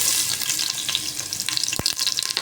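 Garlic and ginger sizzle in hot oil in a pan while squid adobo with cabbage is cooked, a steady close crackle with a few sharper spatters and the scrape of stirring, with no talking.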